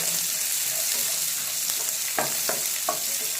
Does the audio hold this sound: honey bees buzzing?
no